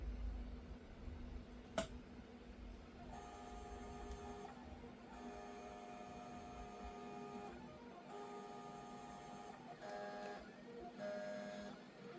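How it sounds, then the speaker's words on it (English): Several small hobby servo motors whirring in short, repeated bursts of a few seconds each, a mechanical buzzing and stepping at a quiet level, with a steady low background hum and one sharp click near the start. "Those servos are just lovely."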